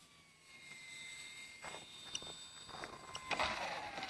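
A radio-controlled model airplane whines in on approach to land at an outdoor flying field, a thin high engine tone that grows louder and harsher toward the end of the clip, with no talk.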